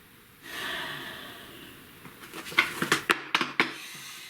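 Someone draws a slow, deep breath in, soft and close, followed by a few brief breathy catches and small clicks.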